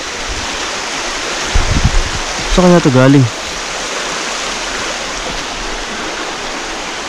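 Steady broadband rush of water flowing in a stream near a cave, continuous throughout, with a person briefly talking over it midway.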